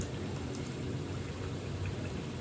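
Water drains out of a double tub washing machine's spin dryer with a steady, fast splashing gush, close and fairly quiet, with no voices.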